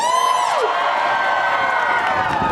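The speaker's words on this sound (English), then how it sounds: "Give yourself a round of applause here" A rally crowd at the March for Life cheers, with whoops and shouting over a dense mass of voices. A high whistle-like tone sweeps downward at the start, and the noise stays loud and steady throughout.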